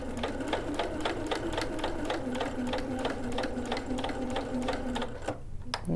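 A sewing machine back stitching along a single welt pocket runs in a steady rapid stitching rhythm at close range for about five seconds, then stops abruptly with a brief handling rattle.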